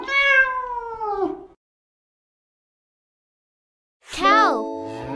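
Two clear cat meows, close and fairly loud, are separated by several seconds of silence. The second meow is higher and more drawn out.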